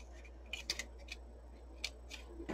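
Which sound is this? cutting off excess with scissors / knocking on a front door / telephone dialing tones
cutting off excess with scissors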